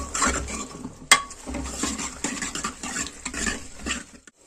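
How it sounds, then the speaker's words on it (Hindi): Onions, tomatoes and spices are stirred in a cooking pot for a savory rice khichdi, with steady close scraping and rustling strokes, one sharp metallic clink near the start, and no talking. "और सभी को मैं अच्छे से मिक्स कर लेती हूँ।"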